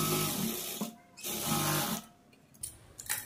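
A sewing machine runs in short bursts while stitching a blouse seam with a folded quarter-inch hem, its rapid whirring motor stopping and restarting close by, with brief quiet gaps between runs.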